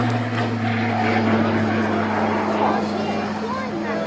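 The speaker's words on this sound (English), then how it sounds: "That distinct noise you'll hear throughout the display is the uprated Garrett TPE turboprop engine fitted to the RAF Tucano" Steady turboprop drone of an RAF Tucano with an uprated Garrett TPE engine at an air display, a loud continuous tonal hum holding for several seconds with crowd and announcer-style voices mixed underneath.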